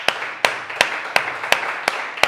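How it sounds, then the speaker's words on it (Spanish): Slow, evenly spaced loud claps, about seven sharp hand strikes in a steady rhythm, ringing close over a hushed church room after a call to applaud Christ Jesus. "Dale un fuerte aplauso a Cristo Jesús."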